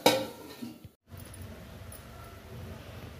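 Metal lid set onto a cooking pot of eggplant curry, a sharp clink and clatter at first, then a short pause and a low, steady simmering hiss.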